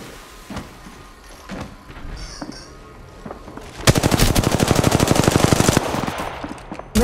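Gunfire in the Apex Legends video game: scattered single shots give way to a long, loud burst of rapid automatic fire lasting a few seconds, then a final shot, with no talking.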